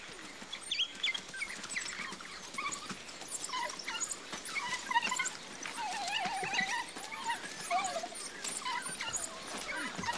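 A litter of twelve African wild dog pups nursing from their mother, giving a busy, continuous chorus of high whimpers, squeaks and yips, close up and overlapping for ten seconds.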